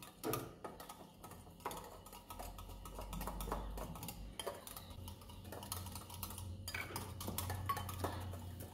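Eggless chocolate semolina cake batter being whisked in a bowl, quiet rapid ticking and clattering strokes of a whisk against the bowl in uneven bursts, close and soft, with no speech.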